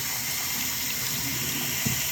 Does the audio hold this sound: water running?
yes